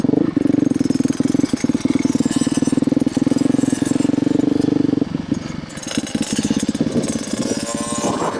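Motocross dirt bike engine at a kids' MX track, a close, loud, rapid pulsing idle that rattles steadily for five seconds, then revs up into a choppier, rising bark.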